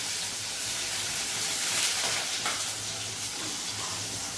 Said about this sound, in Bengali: পেঁয়াজ দিলাম